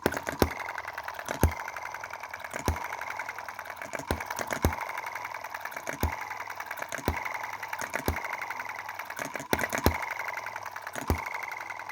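A tiny gasoline engine with a small flywheel and an EM2/M19 valve-operated ignition switch runs slowly, giving evenly spaced, sharp firing beats over a soft, continuous mechanical clatter, heard close up with no voices.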